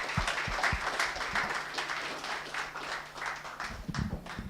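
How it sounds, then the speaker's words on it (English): An audience at an economic roundtable event gives moderate, somewhat sparse applause with distinct individual claps, fairly close, tapering off near the end. "please give a warm round of applause to Mrs. Yinka Adelikon, CEO of Agusto & Co."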